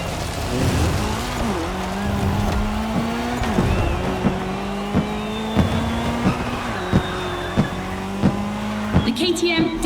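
A KTM motorcycle and a Puma car race together in The Crew Motorsport video game, engines droning with gear-shift rhythm, tire squeals and regular clacking beats, all close and continuous.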